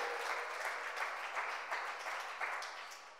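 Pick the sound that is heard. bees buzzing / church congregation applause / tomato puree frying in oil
church congregation applause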